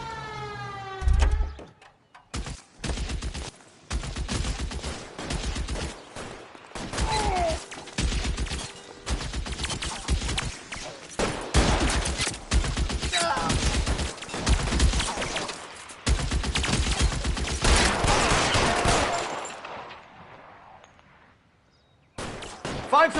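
Gunfire in a shootout in L.A. Noire: repeated loud gunshots and rapid bursts, sometimes spaced and sometimes clustered, continuing through most of the stretch before fading into quiet near the end.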